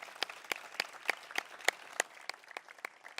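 Scattered clapping from a small audience honoring U.S. Army service members at a city Memorial Day ceremony, sharp individual claps in an uneven rhythm, fairly close and without voices.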